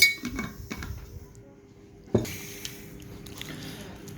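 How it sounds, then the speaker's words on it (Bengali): Spiced batter for pumpkin flower fritters being mixed in a bowl, with utensil clinks and soft knocks against the dish, a sharper clank midway, under a faint background hum. "সব কিছু দিয়ে মিক্সড করতেছি"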